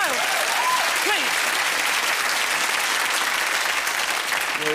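Studio audience at a 1987 Christmas TV comedy talk show breaks into sustained applause, dense and even, with a voice briefly heard at the start.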